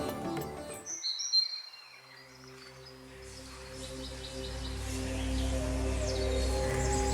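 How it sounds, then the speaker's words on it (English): Birds chirp around a Shiva temple in Durgapur, West Bengal, with a few bright calls at first, then steadier faint twittering and insect-like buzzing over a rising low ambient hum. "You can hear the chirping of the birds and feel the peaceful silence prevailing"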